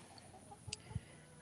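Two short, soft clucks from broody backyard hens in a garden, faint and distant against quiet outdoor background.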